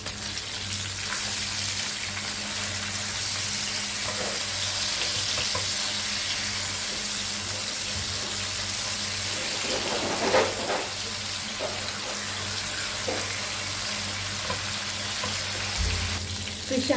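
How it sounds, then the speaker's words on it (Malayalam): Fish for Thalasseri meen pathiri frying in oil in a pan, a loud, steady sizzle that holds for the whole stretch with occasional faint clinks, close by and without talk. "ഫിഷ് അങ്ങനെ ഫ്രൈ ആക്കി എടുത്തിട്ടുണ്ട്."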